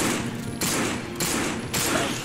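Rapid, loud gunfire from the zombie shooter game No More Room in Hell, a dense continuous fusillade that runs in several back-to-back bursts with no talking.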